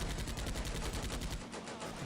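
Rapid bursts of gunfire from the WWII tactical game Combat Mission Beyond Overlord, a dense crackling volley that keeps going for about a second and a half, then thins out, with players talking over it.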